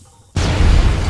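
A big explosion in Fallout: New Vegas near Bitter Springs bursts in suddenly after a quiet moment, a loud, broad boom that stays dense and rumbling to the end.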